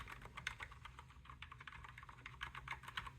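Rapid, steady typing on a split mechanical keyboard with linear switches, keycaps clacking crisply and close up in an even stream with no talking.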